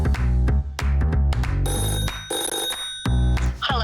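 A telephone rings repeatedly as a live call-in line opens during a show, loud harmonic bursts with brief gaps between them, and no talk.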